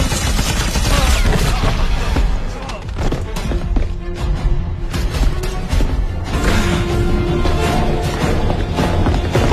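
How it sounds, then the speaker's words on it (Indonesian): A film shootout at a police station: loud, sustained bursts of gunfire mixed with thuds and crashes fill the whole stretch, dense and chaotic with no pauses. "aksi tembak-tembakan kembali terjadi di kantor polisi."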